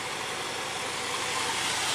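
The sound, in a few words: engine barely idling after carburetor adjustment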